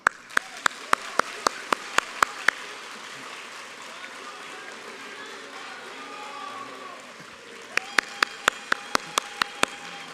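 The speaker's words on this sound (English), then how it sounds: "start the clap" Graduation audience at a university ceremony clapping in unison, sharp regular claps in a steady beat that stop midway and then resume, heard over a murmuring crowd in a large hall.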